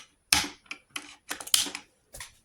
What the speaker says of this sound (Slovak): Môžeme ešte založiť zásobník